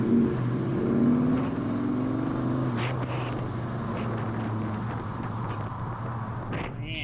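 A 1970 Dodge Dart Swinger 340 V8 rumbles steadily from inside the car while driving with a manual clutch, low engine drone continuous throughout with brief mechanical clunks of shifting, and voices talking over it.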